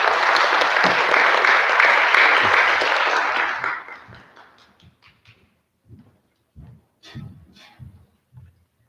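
Crowd at a mass communication awards ceremony applauding an award winner, a loud sustained burst of clapping that tapers off after about four seconds into scattered claps and quiet room noise.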